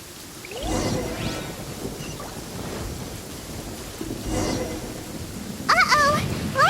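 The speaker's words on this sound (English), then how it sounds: "Uh-oh! Lightning storm!" A lightning storm in the video game Genshin Impact: steady rain hiss with two rolling thunder rumbles, and a brief voice near the end.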